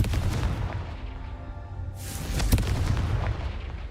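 Spell explosions from the Confringo curse in Hogwarts Legacy boom in quick succession, with a sharp blast partway through and a deep rumbling, crackling tail over constant game ambience.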